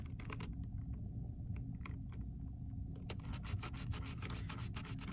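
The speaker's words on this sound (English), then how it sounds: "Give it a rub." Close, steady rubbing of a glued paper petal for a large paper rose, a dry papery scuffing with quick ticking strokes that grow denser toward the end.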